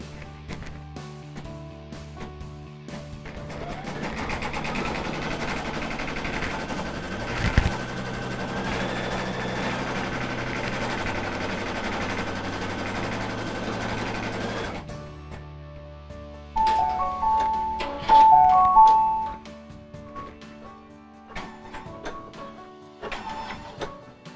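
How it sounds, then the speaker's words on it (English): An embroidery machine sews an applique tack down stitch for a cabbage rose, a continuous close mechanical whir with rhythmic needle chatter for about fifteen seconds, then stopping before softer clicks and handling noises. "now we'll go ahead and stitch our tack down stitch for our cabbage rose."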